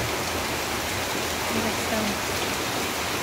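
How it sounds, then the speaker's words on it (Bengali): Heavy rain pours steadily outdoors in darkness, a dense, even hiss filling the whole stretch while someone speaks briefly over it. "প্রচুর বৃষ্টি, পুরা অন্ধকার চারিদিকে"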